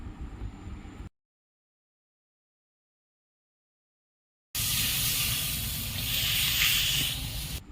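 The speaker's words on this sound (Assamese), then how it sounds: "মাছখিনি আধা ভাজি হোৱাত মই পৰিমাণ মতে খাৰখিনি দি দিলোঁ।" Half-fried small river fish sizzle in a pan as khar, an alkaline cooking liquid, is added; a steady broad hiss sounds briefly, drops into a long silent gap, then returns louder and fuller.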